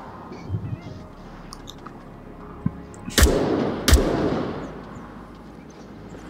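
Gunfire in the VR shooter Onward: two sharp, loud reports about a second apart, each with a short echoing tail, standing out over quiet background noise.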